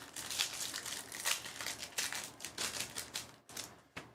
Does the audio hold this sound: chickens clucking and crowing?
no